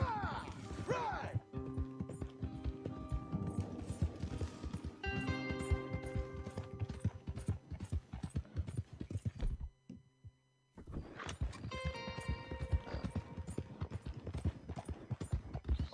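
Horses gallop in the Red Dead video game, with rhythmic hoof clip-clops dense and steady, briefly dropping out near the end before resuming under a faint in-game voice and background music.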